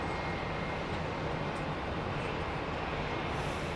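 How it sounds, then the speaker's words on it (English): Aeroplanes at London Heathrow Airport at night, a faint, distant, steady jet engine rumble that stays constant throughout with no speech. "Even though we don't really see the aeroplanes, we get to hear them"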